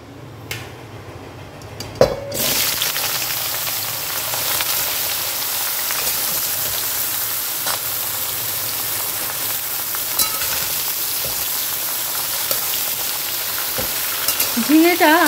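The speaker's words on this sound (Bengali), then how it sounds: "ঝিঙেটা আমি এখন খুব ভালো করে ভেজে নেব।" Ridge gourd frying in a pan, a steady loud sizzle that starts abruptly after a quiet moment and continues throughout, with occasional stirring clatter and no talk over it.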